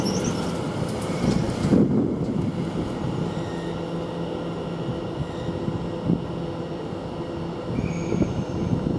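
A passenger train from Ipswich pulls into Shenfield railway station, a steady rumbling roar of wheels and motors with faint squeals, continuous and moderately close.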